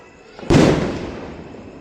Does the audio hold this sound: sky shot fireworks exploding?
yes